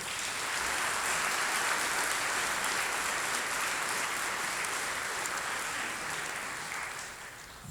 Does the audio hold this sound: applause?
yes